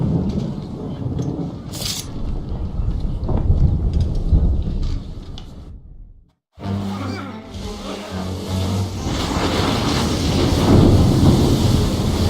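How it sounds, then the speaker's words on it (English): A thunderstorm at sea in Assassin's Creed III, with dense rain and wind noise and deep rolling thunder rumbles that drop out briefly midway before the storm surges back loud and continuous. "You wish us to sail into the storm?"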